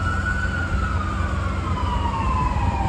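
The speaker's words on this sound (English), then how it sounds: "One thing I haven't missed about Vancouver is all the sirens." Emergency vehicle siren wailing steadily with a slowly falling pitch through city traffic in Vancouver, heard alone over a constant low rumble of surrounding noise for a few seconds.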